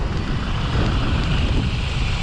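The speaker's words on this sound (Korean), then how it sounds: "바람 소리 들리시죠?" Strong wind blows outdoors beside a used car being inspected, a loud, steady roar and rumble buffeting the microphone with no pauses, and no voices over it.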